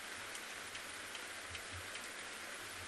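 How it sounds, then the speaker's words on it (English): Steady, soft rain falls continuously during an afternoon safari drive in Kruger National Park, a faint even hiss with occasional light drips and no voices. "You can actually hear the rain."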